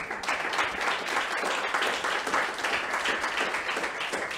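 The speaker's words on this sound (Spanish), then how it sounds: "Dele un fuerte aplauso al Señor." A church congregation claps continuously throughout, a dense, even wash of many hands at moderate distance with no break and little else audible.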